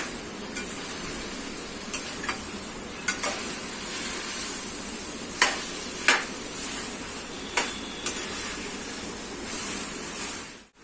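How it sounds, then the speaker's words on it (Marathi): Mashed potato masala with coriander being stirred in a frying pan over high heat: a soft continuous sizzle under repeated sharp clicks and scrapes of the spoon against the pan, with no voices. "आता ही कोथिंबीर चांगलं हलवून घ्यायचं"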